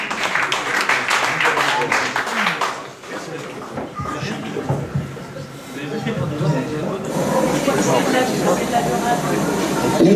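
An audience at the Casino Partouche in Salies-de-Béarn applauds a guest, with bursts of clapping and crowd noise, loud at first, dipping, then swelling again alongside a speaking voice.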